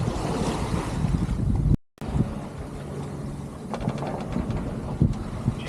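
Steady wind rush and breaking waves around a sailing yacht under full sail in roughly 14 knots of wind off England's south coast, bound for the Isles of Scilly; continuous and fairly loud, with one brief dropout partway through and no voices.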